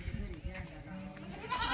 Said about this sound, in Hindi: बकरी चलो, बकरी चलो, बकरी आ गए।